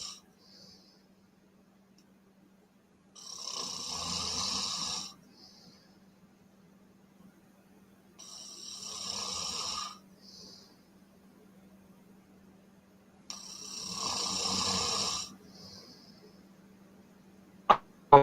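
Three slow, heavy breaths, each a few seconds long with a loud hissing rush, separated by quiet pauses with a low steady hum underneath.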